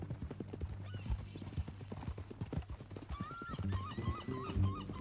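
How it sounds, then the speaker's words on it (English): Horse hooves clip-clop and a horse neighs and whinnies in Red Dead Redemption 2, with steady near hoofbeats throughout and a series of high whinnies in the second half over a low background rumble. "That new horse?"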